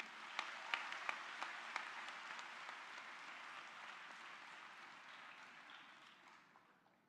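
Audience applause welcoming a speaker at a book release event, a moderate round of clapping with a few sharp individual claps early on, gradually fading out, heard from some distance in a hall.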